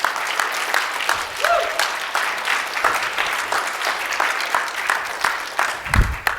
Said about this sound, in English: let's give another round of applause to Scott and what he has accomplished for our nation's capital